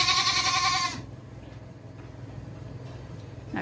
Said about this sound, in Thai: แพะแคระนะคะแพะแคระนะคะแมะแมะแมะแมะแมะแมะ